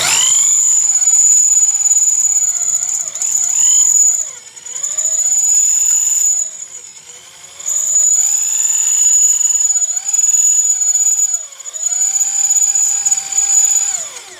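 A Makita electric drill driver bores a hole through an alloy plate, its high motor whine running continuously and sagging, then recovering, in pitch several times as the bit bites under pressure. No voices.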